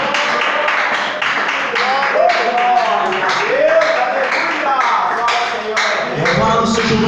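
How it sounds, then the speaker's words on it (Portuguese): Congregation clapping hands in praise during a church service, a dense steady patter of many hands carrying on under a preacher's voice and sung or spoken praise throughout. "Exalte o Senhor com as palmas"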